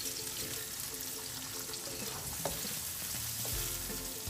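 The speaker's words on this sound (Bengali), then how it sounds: "আমি এখন গরম তেলে দিয়ে দিচ্ছি পেঁয়াজ কুচি, কিছু কাঁচামরিচ আর কিছু কুচনো টমেটো" Chopped onion, green chillies and tomato fry in hot oil with a steady, even sizzle that stays fairly quiet, with a faint stir or tap partway through and no talking.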